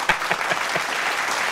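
Brief burst of clapping from a small group, close and steady for about a second and a half, with a few sharper claps standing out at the start.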